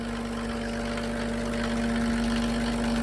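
A Mercedes OM603 diesel engine drives a new PN40 motor pump at a steady idle, giving a constant, even drone with a firm low hum that holds unchanged throughout.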